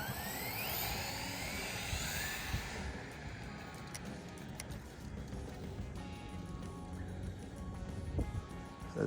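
An Arma Grom RC car's electric motor runs with a steady, loud whirring drone that stays fairly even throughout, with a brighter high whine in the first few seconds before it settles into a rougher, broadband buzz.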